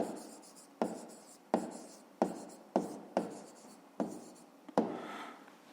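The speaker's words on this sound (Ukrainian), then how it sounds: "Записуємо відповідь." A pen writes an answer to a 5th-grade math exercise on paper, making close scratchy strokes in a regular rhythm of about eight sharp-starting scribbles that fade out, with no voice.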